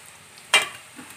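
Chopped tomatoes hit hot oil over golden-brown fried onions for an aloo pulao, giving one brief, sharp sizzling hiss that quickly fades to a faint simmer.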